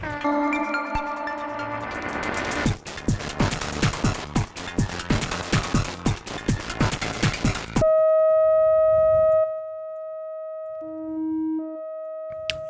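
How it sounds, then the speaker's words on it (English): A Bitwig Studio saturator adds a second harmonic to a single steady test tone. The tone holds loud and unbroken after a dense stretch of full music mix, then a lower tone briefly joins near the end. "it just has this single tone, and it adds the second harmonic, mixes in"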